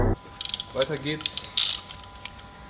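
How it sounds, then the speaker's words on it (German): A ratchet wrench loosening a car's oil filter during an oil change, giving a few short, sharp clicking bursts close by with quiet pauses in between. "Den Ölfilter lösen."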